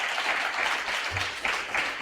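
A church congregation gives a loud applause to the Lord, a continuous wash of many hands clapping at moderate distance, swelling slightly in waves.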